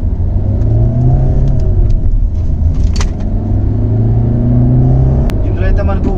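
A Hyundai i20 with a 1.4 litre CRDi diesel engine accelerates from a standstill toward 100 km/h, its low droning engine note rising steadily under road rumble and heard from inside the car.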